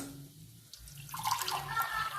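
Water poured from a cup into a frying pan of rice for a rice side dish, a steady splashing pour that starts about midway and builds, close and alone with no talk.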